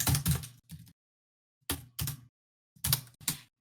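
Bursts of typing on a computer keyboard during an osu! gaming session, with clustered keystrokes in short runs separated by pauses of silence, close and fairly loud.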